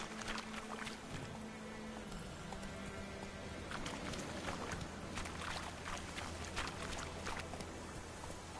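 Roach, the horse in The Witcher 3, clip-clops at a steady trotting rhythm close by, the hoofbeats running continuously over ambient game sound and a low musical drone.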